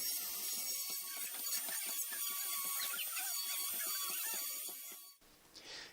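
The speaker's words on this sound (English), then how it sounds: "with a Dremel, I simply gouged out the notches that were needed to add the gaps in the end of the wand" A Dremel rotary tool gouges notches into the end of a wooden wand, its high whine steady and close for about five seconds with a busy scraping, chattering texture, then cutting off abruptly.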